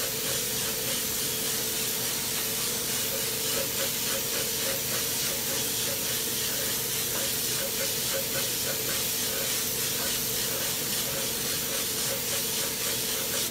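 Orange Tamco paint hisses from a spray gun in one loud, steady, unbroken jet that runs throughout, with no voices.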